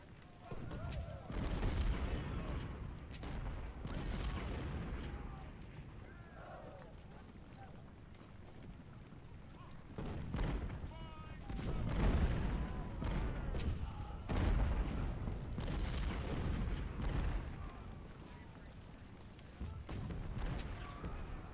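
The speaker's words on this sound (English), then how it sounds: "I want the greatest artillery display we've seen in a long time." A Civil War artillery barrage in Ultimate General: Civil War rumbles as a continuous stream of distant booms and crackling shots, rising and falling in intensity throughout.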